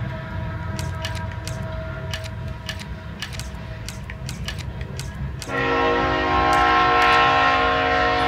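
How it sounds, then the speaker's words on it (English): A loud train passing in the PS3 video game SAW II: Flesh and Blood, rumbling and clattering with sharp metallic clacks, then a sustained horn blares loudly over the rolling noise. "The train's particularly loud today, dude."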